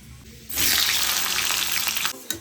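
Eggs with chopped onion and green chili hit hot oil, bursting into a loud, steady sizzle after a quiet half-second start, then spitting on without pause before easing slightly at the end.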